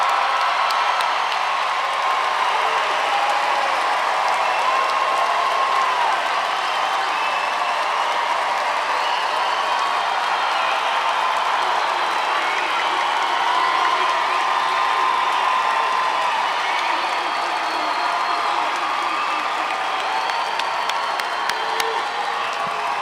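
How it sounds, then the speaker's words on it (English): A large high school graduation crowd cheers, screams and claps continuously and loudly, a dense sustained roar of applause and shouting with no pauses. "you can scream at the top of your lungs and you can stand and clap"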